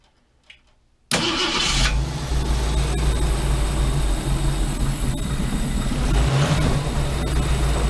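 An early Ford Bronco with a 302 V8 cranks and fires after a second of quiet, then settles into a steady, loud idle with a deep low rumble that runs on without pause.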